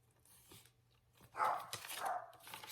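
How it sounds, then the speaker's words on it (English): Dog barking indoors, a couple of sharp barks close by after a quiet start, with faint background hum. "my dog is barking"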